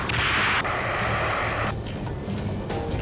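Heavy rocket fire and blasts in the combat flight game Ace Combat 7, a dense, loud roar with a sharp burst near the start and sustained rumbling explosions throughout, no talk.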